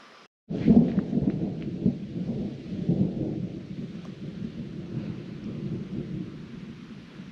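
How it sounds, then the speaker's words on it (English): Thunder from thunderstorms surrounding a campsite rumbles loud and near, a sudden roll that starts sharply and then sustains as a long, deep, uneven grumble with faint rain-like hiss, no voices. "I think I'm pretty much surrounded by thunder showers"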